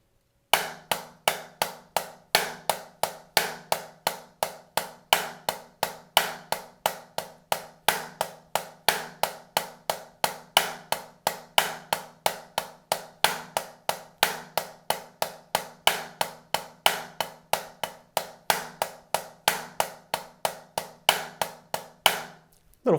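Triple paradiddle groove on a drum kit, a steady run of crisp accented strokes over a sustained low drum tone, played alone with no talk for about twenty seconds before stopping abruptly.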